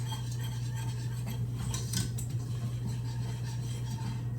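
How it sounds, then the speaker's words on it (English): A whisk scraping and clinking against a pan as flour and oil are stirred into gravy for liver, a rapid, close metallic rattle over a steady low hum. "But you're just gonna whisk that."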